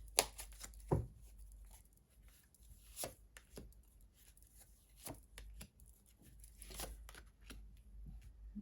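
Quiet riffle and soft slaps of cards being shuffled and placed down one by one, sparse irregular taps in a still room.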